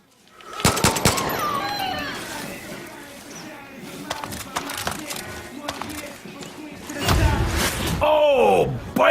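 Gunfire in Far Cry New Dawn: a rapid burst of loud shots near the start, then continuous mixed combat noise with game sounds and a heavy blast toward the end, under occasional talk.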